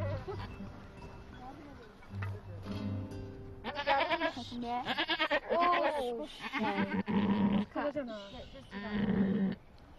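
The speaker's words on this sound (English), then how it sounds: "One of the goats has gone into labor." A goat in labor bleats repeatedly in strained, wavering cries, loud and close, with people talking in the background.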